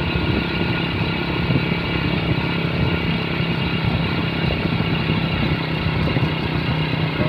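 A Suzuki Supra Fit motorcycle engine labors steadily uphill in third gear, a loud, continuous mid-pitched drone with rough clatter and no break in its sound.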